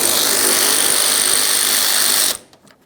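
A power tool drives out a 10mm bolt at the bumper cover corner by the fender of a 2011-2021 Jeep Grand Cherokee. It whirs steadily and loudly for about two seconds, then cuts off into near silence.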